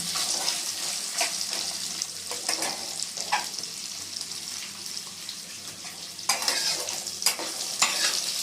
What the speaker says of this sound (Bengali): আলুটা একটু নাড়াচাড়া করে নেবো